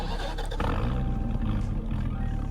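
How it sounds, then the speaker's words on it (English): A 1,750-horsepower pickup truck engine cranks and fires up, a loud, rough roar that settles into a rumbling idle close by. "I'll get the startup here"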